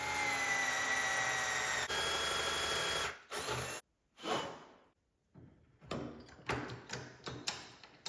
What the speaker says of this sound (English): I'm gonna be using a spade bit here, a 9/16 inch spade bit to get through it.